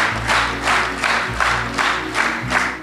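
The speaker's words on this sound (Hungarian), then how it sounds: "A közönség vastapsal köszönte meg Csiba Erzsébet munkáját." An audience at a social work day ceremony in Hungary gives sustained, loud applause to honour a retiring worker, the clapping dense and steady with rhythmic pulses as the crowd claps in unison.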